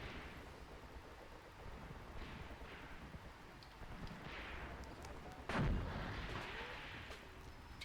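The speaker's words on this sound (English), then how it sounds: "The gun fired again." An artillery gun fires in a battle in the war game Graviteam Tactics, with one heavy, deep boom near the middle rising out of a constant rumble of distant battle noise and rain-like hiss.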